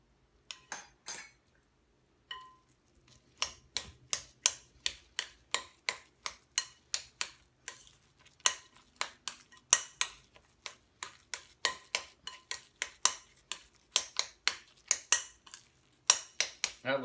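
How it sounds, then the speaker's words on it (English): A spoon stirring almond flour muffin batter in a bowl, producing a quick, steady run of light clinks and taps against the bowl, fairly quiet and close, with a short pause near the start. "All right, let's give that a stir. I'm going to switch to a spoon at this point."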